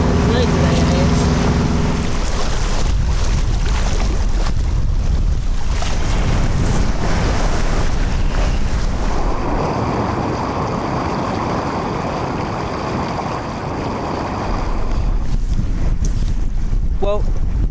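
A sailboat underway on a gloomy day, with steady wind buffeting the microphone and broadband rushing of water and waves against the hull throughout, loud and continuous.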